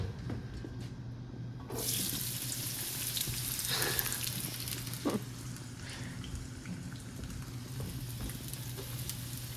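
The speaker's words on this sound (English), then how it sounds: "I'm adding my oil first, and now I'm adding my onion." Onion hits oil in a skillet for tortilla de patatas, and a soft, even hiss of sautéing takes over and carries on steadily, with a couple of faint clicks and a low hum underneath.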